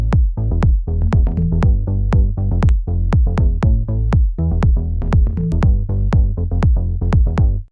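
A pop remix loop built in FL Studio, with a steady four-on-the-floor kick that rhythmically ducks sidechained bass and synth parts into a pumping pulse, loud and continuous without any voices.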